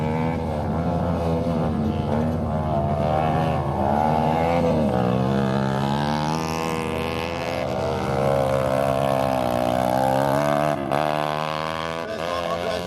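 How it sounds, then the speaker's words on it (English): A ride-on lawn mower engine at drag races drones loudly and continuously, its pitch rising and falling as it revs, close and steady throughout with no talk. "First time Andre's ridden this mower, so he's not doing too bad."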